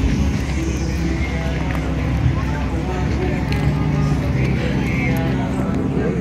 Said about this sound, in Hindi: ये जितनी भी गाड़ियां ना शोर कर रही हैं, इनमें कम से कम के 24 टर्बोज लगे हुए हैं